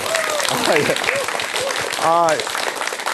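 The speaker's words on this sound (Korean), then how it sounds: "이제 알아서 나오는 박수 굉장히 좋습니다" An audience at a mentoring talk applauds in a sustained wash of clapping while someone speaks over it.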